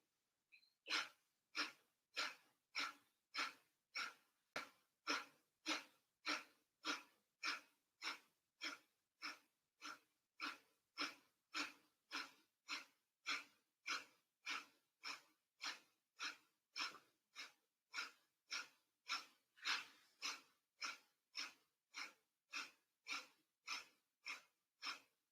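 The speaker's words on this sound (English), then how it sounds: "with your breath, you'll inhale and exhale completely" Rhythmic deep breathing, about forty quick forceful pumps of the breath in a steady even pattern, close and clear with no talking.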